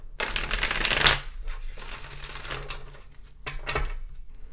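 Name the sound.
shuffling tarot cards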